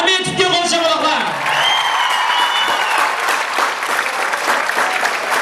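Dense applause from a concert audience fills the hall, steady and close, with some cheering and shouting over a fading voice at the start.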